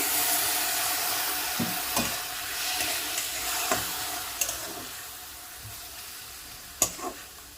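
Cucumber curry with chopped green chillies simmers in a pan on a gas stove after a little water goes in, giving a steady soft sizzle and bubbling with a few brief sharper pops and splashes, no voices.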